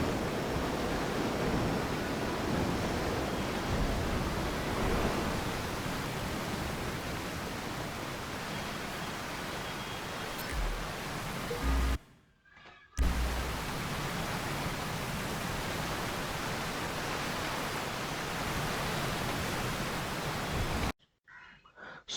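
Steady rushing water from a small waterfall near the Alamo Sea in GTA 5, a continuous broadband roar that cuts to silence briefly twice.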